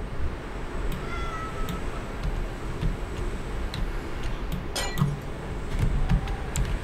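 Cats in the Minecraft video game meow softly a few times against a busy background of light ticking and clinking game sounds, with no talk.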